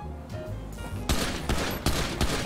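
Rapid bursts of gunfire in GTA 5 while shooting out security cameras inside a shop, several loud cracking volleys landing about half a second apart over a busy game background.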